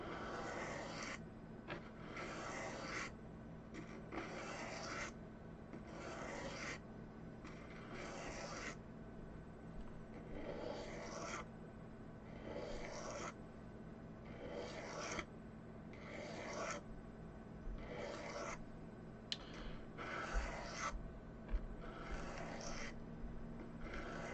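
A knife blade drawn across a sharpening stone in long, even strokes, roughly a dozen rasping swipes at a slow, regular pace close up, with a low steady hum underneath.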